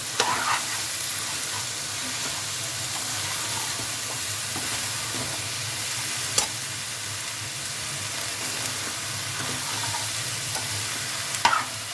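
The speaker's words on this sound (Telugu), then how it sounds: "దొండకాయ ముక్కలు వేసిన తర్వాత మొత్తం ఒకసారి కలుపుకోవాలి" Ivy gourd pieces stirred into tomatoes and dry prawns in a hot pan, a steady sizzling hiss with occasional scraping clinks of the spoon against the pan, close and continuous.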